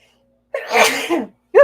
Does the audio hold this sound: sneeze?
yes